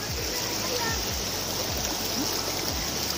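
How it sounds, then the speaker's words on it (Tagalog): A river flowing in rocky outdoor surroundings, with a constant close rush of water alongside low thumps and brief voices. "Ilog dito."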